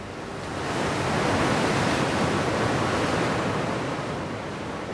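Ocean waves and wind on Scotland's north coast, a dense continuous roar of surf that builds within the first second and then holds steady and loud, with no voices.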